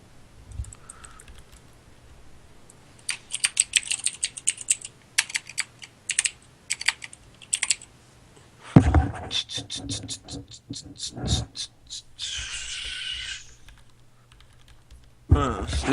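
Someone types on a computer keyboard in several quick bursts of clicky keystrokes, separated by short pauses, with brief louder noise in the later part.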